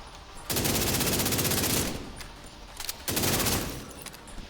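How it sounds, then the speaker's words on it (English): Automatic gunfire in the video game The Division 2, two long rapid bursts of assault-rifle fire with a brief gap between them, loud and close, with scattered shots in the background. "Gunfire? Agent, I didn't send reinforcements."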